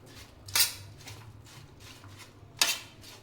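Okra tossed with salt and lemon juice in a bowl, with two sharp metallic clinks of a spoon against the bowl over a faint low background hum, otherwise quiet.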